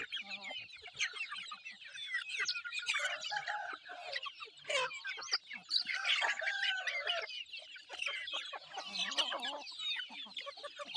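Chickens cluck busily and without pause, with overlapping calls and occasional rooster-like crowing notes, forming a dense, lively farmyard chorus at moderate distance.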